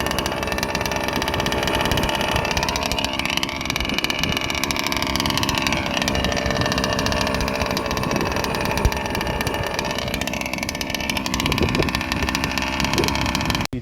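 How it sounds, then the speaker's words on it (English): A radio-controlled car fitted with a rebuilt Zenoah G320RC 31.8cc engine and an ESP race-ported four-bolt top end runs hard, giving a loud, continuous, raspy two-stroke buzz that rises and falls in pitch as it accelerates and backs off. "See that the power of the ESP engine, look."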